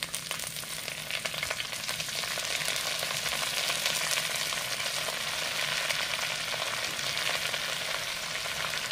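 Fresh mint leaves fry in hot oil for a village-style mint chutney, giving a steady, close, continuous sizzle and crackle with no talk.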